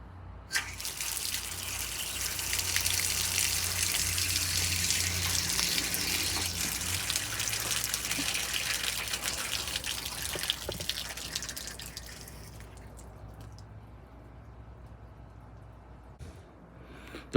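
Water runs steadily from an outdoor faucet fitted with a Freeze Miser freeze protector, a close hiss for about twelve seconds that then cuts off, leaving a few faint drips.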